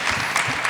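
An audience at a film festival panel breaks into brief, lively clapping, a short dense burst of applause at close range.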